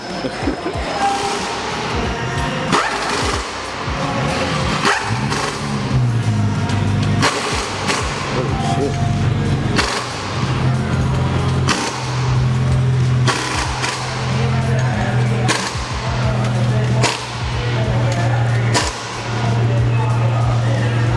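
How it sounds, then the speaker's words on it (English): Loud exhaust of an Infiniti G35 with a muffler delete, deep steady low rumble held throughout with repeated thumps and revving swells, close to the microphone, with speech-like sounds over it. "it definitely sounds so good. It definitely sounds different."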